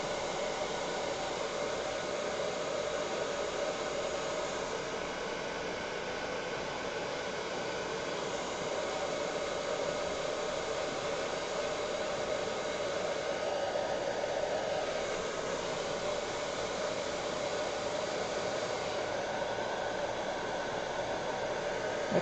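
A hair dryer blows steadily at close range to dry a repair on a stunt hangar model, a constant even whooshing drone that runs alone without any talk.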